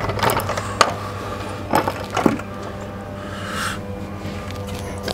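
Car jack being cranked tight under a Camaro jack puck, a few metallic ratcheting clicks and clanks spaced over the first half, then a quieter mechanical hum.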